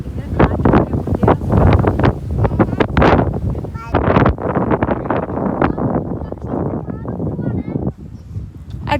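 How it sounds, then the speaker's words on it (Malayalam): Strong wind buffets the microphone at a mountain viewpoint, a loud continuous roar with gusting swells, while a person talks over it throughout. "നല്ല കാറ്റാണേ"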